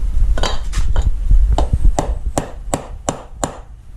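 Sharp metallic hammer strikes on a chain ring out in a steady series, about ten blows in a loose rhythm, close and loud.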